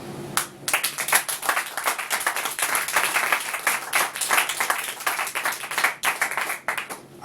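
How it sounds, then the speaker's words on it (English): Enthusiastic audience applause at a spoken-word poetry performance, dense continuous clapping from a crowd that swells and holds steady, with scattered cheers and no clear talk. "I would love it if she can get a round of applause"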